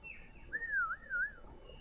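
A person whistles a short warbling, rising and falling birdlike phrase in two bursts, imitating bird song, soft and close in a quiet setting.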